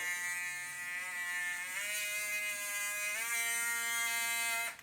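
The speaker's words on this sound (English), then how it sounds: "The motor has 5 different speed levels, so pressing the button each time increases the speed" A Vanlgs cordless engraving pen motor whines steadily, its pitch stepping up twice as the speed rises, then cutting off abruptly at the end; close and alone.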